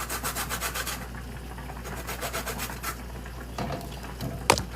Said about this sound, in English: We keep scraping our lemon.